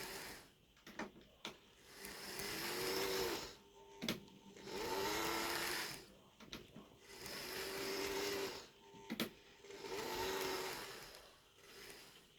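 An EFE Rail Bulleid Booster model locomotive runs slowly along the track, giving a faint whirring motor hum that swells and fades in repeated cycles, broken by small clicks and cogging noises.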